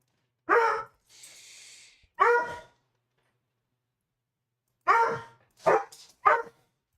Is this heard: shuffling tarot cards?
no